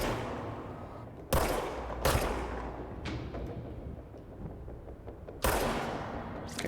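Gunfire in the video game Control: a few sharp, loud shots spaced irregularly, each with a decaying tail, over low game ambience.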